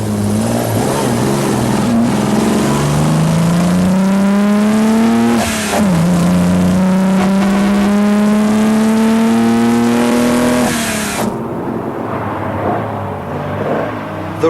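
Classic race cars, an Austin-Healey and an AC Cobra, roar close by with loud, continuous engine drone whose pitch climbs steadily, dips briefly at a gear change, then climbs again before cutting away.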